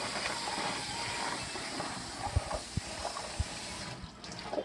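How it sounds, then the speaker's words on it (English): Running water rinses cut coconut in a strainer, a steady close wash of hiss and splash with a few soft knocks near the end, no talking. "Put it in a strainer and wash it out."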